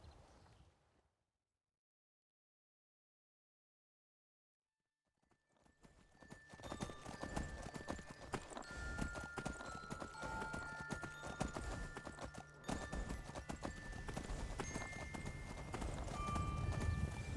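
Horses' hooves clip-clop steadily in Skyrim, played with the Rigmor of Cyrodiil mod: after a few seconds of silence a continuous close run of hoofbeats sets in and holds to the end.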